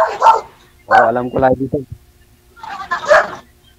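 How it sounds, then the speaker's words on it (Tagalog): A dog barks in short bursts in the background of a live call-in radio show, mixed in with people talking close to the microphone. "Yung aso kanina pa ho yan galit, ma'am."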